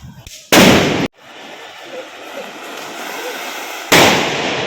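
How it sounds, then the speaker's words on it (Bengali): Firecrackers bursting during Diwali in a city street, with two loud, sharp blasts close by separated by a few seconds of lower crackling and distant pops. "চারিদিকে এত পটাকা ফুটছে এখন"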